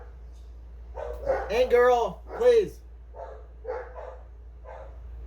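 Dogs barking and yipping in a quick run of close, sharp barks mixed with whining tones, partly under a person speaking.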